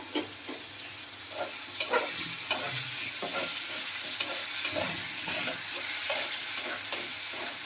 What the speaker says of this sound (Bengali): আলু আর পটলটা সুন্দর করে সিদ্ধ হয়ে গেছে এবং লাল লাল করে ভাজা হয়ে গেছে